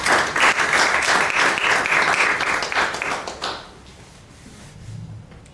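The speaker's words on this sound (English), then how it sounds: "A big applause for our guest." Audience applause for a guest speaker at a talk on convivencia and religious tolerance, loud dense clapping for about three seconds, then fading away into quiet room tone.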